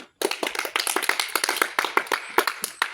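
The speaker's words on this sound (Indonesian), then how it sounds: "Silakan kita beri aplaus untuk Yurike." Classroom applause for a student who has just presented her experiment results: a short burst of several hands clapping together, dense and fairly close, lasting a few seconds without speech.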